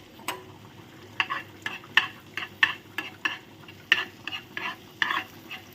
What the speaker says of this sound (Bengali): এর মধ্যে দিয়ে দিচ্ছি দেখো একটু গোটা জিরে